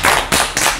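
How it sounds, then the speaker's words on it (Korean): Several people clap their hands together in three quick bursts, loud and close, with a brief pause between each burst. "박수 한번 치고 시작합시다."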